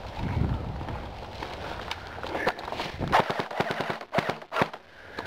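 Outdoor airsoft play with a Dboys SCAR-L: rapid bursts of sharp clicking shots crowd the second half, over rustling movement and wind, with faint voices nearby.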